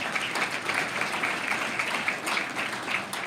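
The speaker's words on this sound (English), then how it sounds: "a round of applause to you again" An audience applauds at a graduation ceremony, steady dense clapping from a large crowd that fills the whole clip at even loudness.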